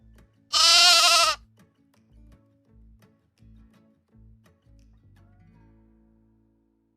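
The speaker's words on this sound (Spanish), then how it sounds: "La oveja." A sheep bleats once, loud and close, a single quavering cry of under a second, then steady low rhythmic pulses continue beneath it and fade out.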